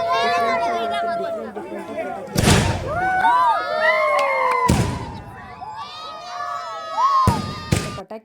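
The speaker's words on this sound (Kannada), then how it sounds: "ಇದನ್ನು ಸಹ ನೋಡಿ ಎಷ್ಟು ಥರ ಪಟಾಕಿ ಹೋಗ್ತಾ ಇದೆ." Firecrackers at a New Year celebration crack out as several sharp, loud bangs spread across the clip, over a lively crowd of chattering, shouting voices and high whistling tones.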